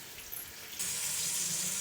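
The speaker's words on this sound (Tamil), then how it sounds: "2 கிளாஸ் தண்ணி சேர்த்துக்கலாம்." A steady rush of water pouring into a pot for coconut milk rice, growing fuller and louder partway through, continuous and close.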